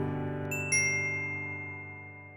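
A chiming doorbell-style tone rings out from a show intro, a sustained harmonic note joined by a brighter second strike partway through, both ringing clearly and slowly decaying with no voices.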